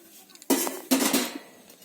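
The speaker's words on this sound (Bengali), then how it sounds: "এবার আমি ঢাকাটা খুলে দেখে নেবো" A lid lifted off a cooking pot of sweet kathi gaja fried snacks: two quick metallic clanks of pot and lid close by, followed by faint rattling, no one speaking.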